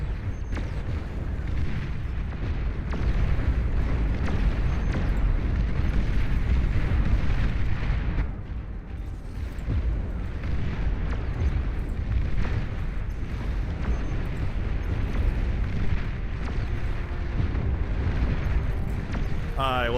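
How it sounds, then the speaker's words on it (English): EMP missiles explode during a Beyond All Reason strategy battle, making a sustained, loud, rumbling roar of overlapping blasts and booms with a voice talking over the din. "I love EMP missiles."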